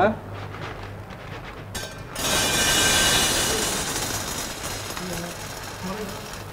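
Corn kernels poured into a GRD grain grinding machine: a quiet stretch, then a sudden loud, dense rattling rush of grain that gradually eases, with a voice faintly present.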